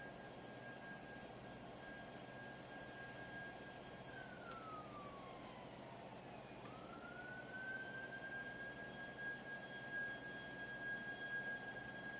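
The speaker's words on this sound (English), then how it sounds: "I'm just enjoying the sound of the siren." A distant siren at the Starship SN8 static fire site holds a steady tone, dips and glides back up midway, then holds again over a constant background hum.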